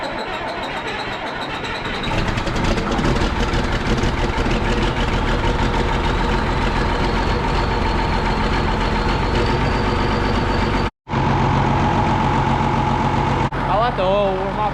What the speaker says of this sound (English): So I'm gonna move the tractor to the middle of the shed.